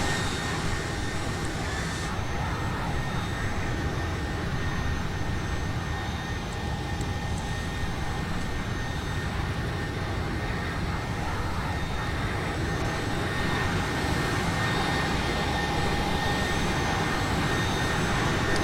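Boeing 757 jet engines in the X-Plane flight simulator produce a steady, unbroken roar and whine that holds at the same loudness throughout, with no talk.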